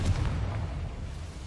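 A Confringo blasting spell explosion in the Hogwarts Legacy video game, a deep booming burst up front that rolls off into a rumbling decay over a second or so.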